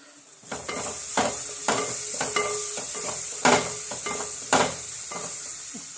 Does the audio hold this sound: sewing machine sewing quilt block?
no